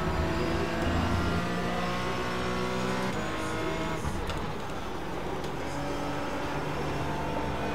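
Porsche Cayman GT4 race cars lap Hockenheim in iRacing, their engines droning loud and continuous with shifting revs and a steady high whine, with no talk over them.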